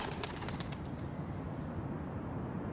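Pigeons take off and fly, their wings flapping in a busy burst at the start before a steady rush of wind and noise covers the rest.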